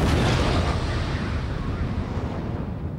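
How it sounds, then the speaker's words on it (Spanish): Controlled detonation of two artillery shells by Guardia Civil bomb disposal specialists in Peralta and Castejón, Navarra: a heavy, rumbling blast that fades slowly over several seconds, loud and distant-sounding in open ground. "Este es el momento de las detonaciones controladas por parte del grupo de especialistas en desactivación de explosivos."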